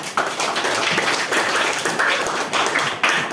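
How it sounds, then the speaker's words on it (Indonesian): Dense clapping from a small group of students in a lesson, steady for a few seconds, fairly close, with no voices over it. "Tepuk tangan untuk Zahra."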